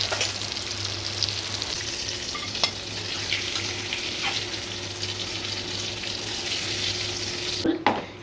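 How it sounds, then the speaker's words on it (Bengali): Vegetables fry in a pan with a soft, steady sizzle that runs throughout, broken by a few faint clicks and a short clatter near the end. "এখন অনেক ভাজা বাকি আছে, এইটা ভাজবো।"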